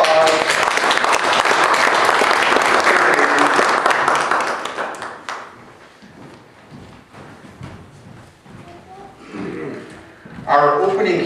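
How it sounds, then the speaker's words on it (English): A church congregation at a Sunday service breaks into loud, sustained applause that tapers off after a few seconds into scattered claps, shuffling and murmuring, with a brief swell of voices near the end. "Big applause."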